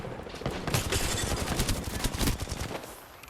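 Rapid automatic gunfire from an Apex Legends firefight crackles loud and dense for about three seconds, bursts overlapping into a sustained volley before easing off at the end.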